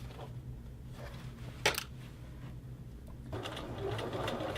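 A sewing machine runs a short, quiet stitching burst along the hem of a fleece hoodie without backstitching, with a brief clatter in the middle and the whir picking up again near the end.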